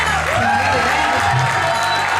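A crowd at a live gathering claps and cheers loudly and steadily, with tonal music and scattered voices mixed into the din.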